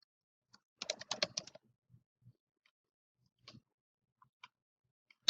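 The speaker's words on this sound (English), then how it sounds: "We're going to type in Ninja Forms." Fingers tap a computer keyboard in a quick cluster of keystrokes, then a few isolated clicks spaced out across a quiet background, close and fairly soft.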